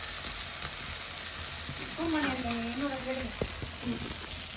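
Sautéed ingredients sizzle steadily in a pan as a constant crackling bed, while a voice briefly hums or speaks partway through and a single clink sounds near the end.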